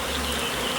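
Honey bees buzzing around an opened hive during an inspection: a dense, continuous close-up hum, steady and loud, with no talking.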